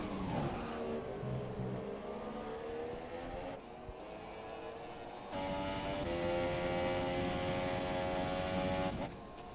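F1 race cars in a racing game driving past a ghost car at Bahrain, high-pitched engines whining and climbing in pitch as they accelerate, with a sharp shift in tone midway as the sound changes view.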